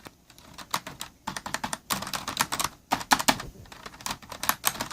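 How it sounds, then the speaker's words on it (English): Rapid, uneven keystrokes clatter on a cheap hybrid membrane-mechanical keyboard, close and dry, with bursts of clicks and short pauses throughout and no talking. "But the most amazing part of the whole keyboard is that it is actually mechanical."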